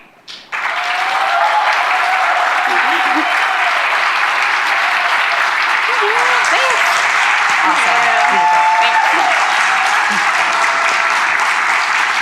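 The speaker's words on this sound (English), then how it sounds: "We got some good cheering going on." Audience at a furniture design prize presentation bursts into loud, sustained applause after the talk, a dense steady wash of clapping with faint voices and cheers underneath.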